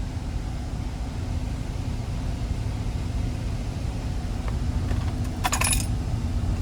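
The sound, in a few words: keys jangling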